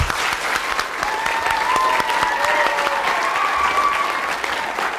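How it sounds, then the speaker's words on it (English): A school audience claps steadily for a young piano player. The applause is dense and continuous at a constant loudness, with some cheering mixed in. "Yes, you may cheer, you may applaud."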